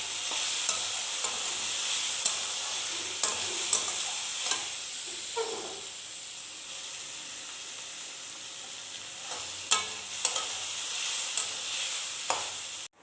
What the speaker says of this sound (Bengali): প্রথমে সবজিটাকে ভেজে নিয়ে লবণ ও হলুদ দিয়ে সবজিটাকে ভেজে নিচ্ছি